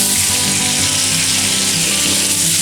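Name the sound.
bacon frying in a pan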